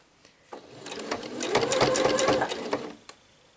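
A sewing machine shearing elastic onto a summer dress runs in a close, steady whirring burst lasting a few seconds, starting and stopping abruptly.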